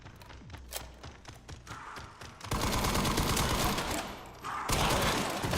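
Gunfire in the video game Resident Evil Requiem, played on Insanity difficulty: scattered sharp shots at first, then a dense, continuous burst of rapid fire that breaks off briefly and resumes, heard fairly quietly.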